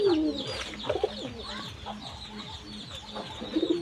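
Red-necked pigeons of a well-known Khulna breed give soft, repeated cooing calls at close range, with a few louder bursts among steady low murmuring and no talk.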